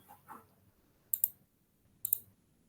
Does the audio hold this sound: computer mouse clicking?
yes